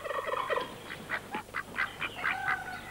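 Geese on a farm honk and call in a loose series of short, nasal cries, some overlapping, at moderate loudness with no talking.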